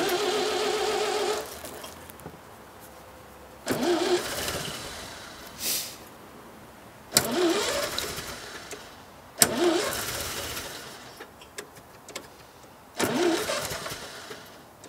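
A 1929 Dennis G-type fire engine cranks repeatedly in several attempts in winter, each catching briefly with a rough roar before dying, separated by pauses; no voices.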